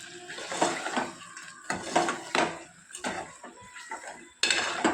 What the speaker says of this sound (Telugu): అంతా ఒకసారి బాగా కలుపుకుందాము.